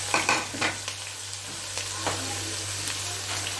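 Green chillies and spring onion frying in a pan, a soft steady sizzle close by, with a few stirring knocks early on.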